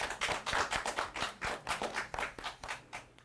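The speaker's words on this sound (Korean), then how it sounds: "축하의 박수 부탁드리겠습니다." Applause at an award ceremony at a recycling festival. A small crowd claps in an uneven, steady patter that fades slightly toward the end, with no talking.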